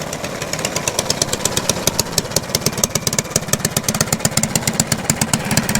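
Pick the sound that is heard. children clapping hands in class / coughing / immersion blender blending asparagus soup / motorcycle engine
motorcycle engine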